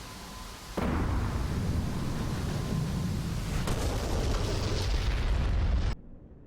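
A JDAM bomb explodes in the DCS World F-16C flight simulator game, a loud sustained rumbling blast that holds for several seconds before cutting off.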